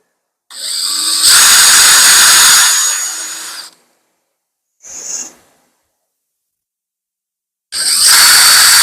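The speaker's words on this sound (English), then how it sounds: "And then we will drill the holes here for the hinges." A power drill whines into wood in bursts while drilling hinge holes for a rustic cabinet: a long run of a few seconds, a brief blip, then another run starting.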